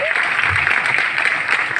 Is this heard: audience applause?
yes